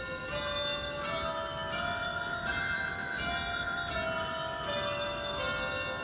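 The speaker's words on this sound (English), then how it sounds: "I do have bells." Bells on a 1919 Wurlitzer pipe organ ring steadily and loudly, many bell tones struck together in a sustained shimmering cluster with no voices over them.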